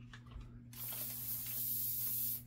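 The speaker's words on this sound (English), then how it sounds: "Spray that upper receiver right there." Dry lube aerosol sprayed onto an AR-15 upper receiver during cleaning: one steady, close hiss lasting nearly two seconds, beginning abruptly and cutting off sharply, with no talking.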